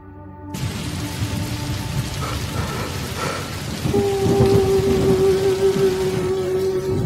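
Steady rain pouring down, with a low rumble of thunder and a faint tonal hum joining partway through.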